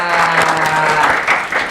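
Applause from the audience at a student talk on school organizations, dense steady clapping throughout, fairly loud and close, with a voice faintly mixed in.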